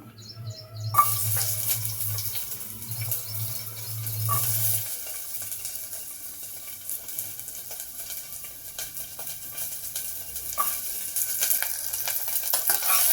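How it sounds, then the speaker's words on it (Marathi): Chopped onion hitting hot oil in a pan for a quick protein rice, a steady close hiss and crackle that carries on with some stirring clatter, with no voices. "सगळ्यात पहिले आपण टाकूया कांदा."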